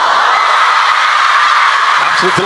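A table tennis crowd at China Smash roars steadily and loudly in delight as Wang Chuqin wins his first point of the third game, a dense wall of cheering with a voice emerging near the end.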